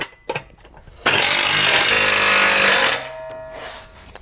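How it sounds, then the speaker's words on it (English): Power tool, likely an impact driver or ratchet, with a 9/16 socket tightening hardware on a small overland camping trailer during assembly, a few short clicks and then a loud continuous buzzing burst of about two seconds, followed by quieter handling noises. "Then you grab your 9/16 wrench and socket."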